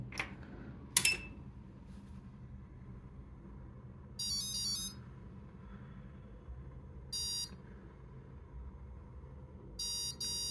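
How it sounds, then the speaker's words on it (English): A BLHeli electronic speed controller entering programming mode gives short bursts of high, rapid electronic beeps at intervals, faint and alone over a quiet hum, after a couple of clicks. "All of those beeps mean that it's now in programming mode"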